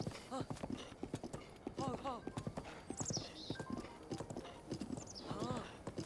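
Rhythmic hoofbeats of a horse clip-clopping in Zelda: Breath of the Wild, close and steady, with the horse whinnying and snorting between strides while people talk over the game sounds.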